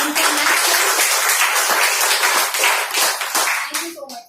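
An audience breaks into loud, dense clapping at a business seminar, a sustained burst of applause that thins out near the end as a voice starts speaking.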